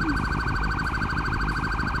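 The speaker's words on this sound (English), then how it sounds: "turn off that siren" A police siren in GTA 5 warbles in a fast, steady yelp pattern, loud and continuous throughout with no voices.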